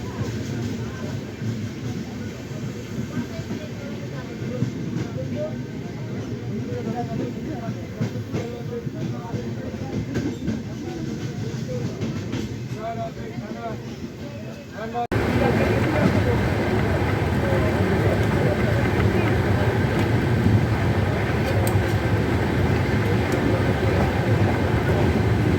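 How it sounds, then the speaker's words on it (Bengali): 13162 Balurghat–Kolkata Tebhaga Express passing on the line, a broad rumbling roar of rolling wagons that steps up sharply louder midway and stays loud to the end, with a voice speaking over it at times. "এটা হলো 13162 ডাউন বালুরঘাট কলকাতা তেভাগা এক্সপ্রেস।"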